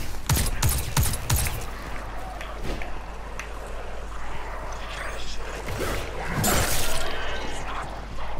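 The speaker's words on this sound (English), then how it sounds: "Right, my grenade launcher's charged." Rapid weapon fire and blasts from a grenade launcher in the Destiny 2 shooter video game, with a quick burst of sharp shots up front and a louder explosive burst later over steady low game rumble.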